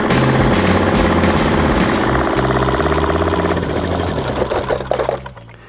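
A Caterpillar diesel engine runs steadily on heating oil, a loud continuous rumble with a fast knocking rhythm and a stable idle, dropping off abruptly at the very end.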